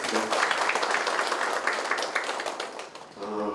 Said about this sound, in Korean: 박수와 함께 시작하도록 하겠습니다